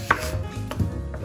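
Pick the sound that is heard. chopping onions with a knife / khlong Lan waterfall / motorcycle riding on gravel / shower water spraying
chopping onions with a knife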